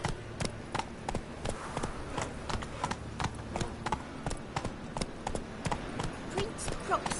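The horse Roach gallops in Witcher 3 with a quick, steady rhythm of hoofbeats pounding close by throughout, while a voice speaks over the hooves.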